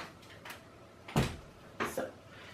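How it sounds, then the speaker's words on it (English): A room door pulled shut at close range: a soft thud followed by a couple of lighter knocks and rattles as it settles into the frame, with quiet room tone around it. "Let me close my door first."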